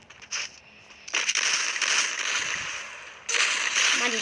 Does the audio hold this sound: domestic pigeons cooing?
no